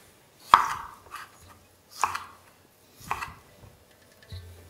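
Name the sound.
knife roughly chopping tomato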